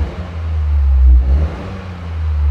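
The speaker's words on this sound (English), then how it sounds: "Let's give the exhaust a go." 2024 Toyota GR Corolla exhaust, heard from inside the cabin: a deep, muffled engine rev swelling up and dropping back, then building again, with no talk.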